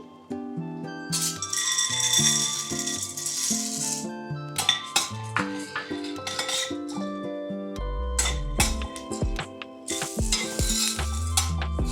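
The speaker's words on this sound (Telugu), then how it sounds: "ఫస్ట్ సీడ్స్ వేయించుకోవాలి అన్నీ." Sesame seeds and other seeds being dry-roasted in a pan for protein laddu, with steady stirring and scraping, light sizzling crackle and occasional clinks of a utensil against the pan, close and continuous without talk.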